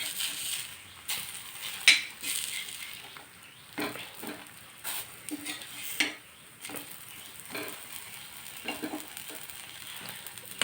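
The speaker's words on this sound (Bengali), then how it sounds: "এখানে তাওয়াতে আমি প্যান কেক বানাচ্ছি।" Pancake batter cooks on a flat tawa griddle with a faint steady sizzle, broken by scraping strokes and light metallic clinks of a utensil against the pan.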